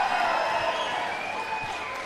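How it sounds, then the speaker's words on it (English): A crowd at a Major League Pickleball finals match cheers and applauds. The burst is loud at the start and then fades slightly over a couple of seconds. "the crowd gets involved"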